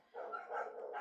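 A single short bark from a pug mix dog, quick and fairly faint, heard alone.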